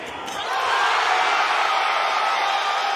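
A college basketball arena crowd at Colgate vs Auburn erupting into a loud, sustained roar of cheering that swells after a brief moment and holds steady, broad and enveloping.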